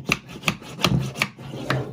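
A hammer taps on wooden canvas stretcher joints five times at a steady, unhurried pace, each hit a sharp, close knock with a short woody ring.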